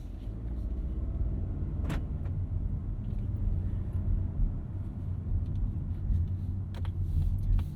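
A Mazda CX-50 pulls away after shifting from reverse into drive, its engine a smooth, steady low hum under continuous road rumble, with a brief faint tick or two and no voices.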